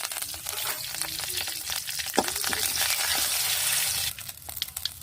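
Mustard seeds and curry leaves sizzle steadily in hot coconut oil, a dense continuous crackle with scattered pops and a few metallic clinks of a spoon, close and fairly quiet.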